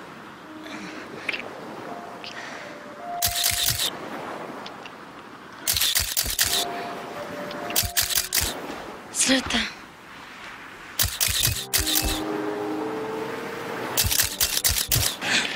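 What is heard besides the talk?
camera shutter clicking while photographing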